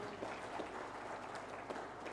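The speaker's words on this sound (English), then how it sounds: "let's give a round of applause" An audience applauds at a health services event, a faint, steady patter of many hands clapping at a distance.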